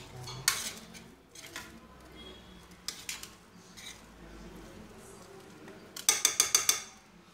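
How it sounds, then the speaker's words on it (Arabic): A utensil stirs a pastry mixture in a metal pot, giving scattered scraping and clinking hits, then a quick run of five or six sharp, loud metallic knocks near the end. No one speaks. "غادي نحركو مزيان"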